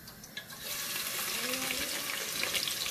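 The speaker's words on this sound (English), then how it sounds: "So now I'll start frying my stew." Steady sizzling and crackling of onions frying in hot groundnut oil for Nigerian stew, close up, rising after a brief quieter start and holding constant.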